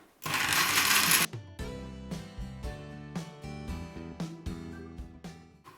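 A blender whirs loudly for about a second, then cuts off, leaving soft plucked music playing on its own.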